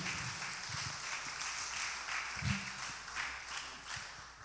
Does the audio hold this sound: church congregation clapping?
yes